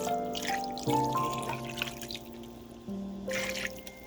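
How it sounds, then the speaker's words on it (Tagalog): Water trickles as it is poured into a pot of simmering salmon head soup, a faint pouring sound beneath background music. "Ngayon, dadagdagan ko ulit ng tubig."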